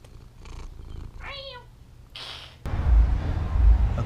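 A house cat purrs up close, a low, rough, continuous rumble that grows louder in the second half, preceded by a short chirping sound and a brief hiss of noise.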